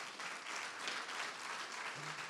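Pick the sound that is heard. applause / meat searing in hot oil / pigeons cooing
applause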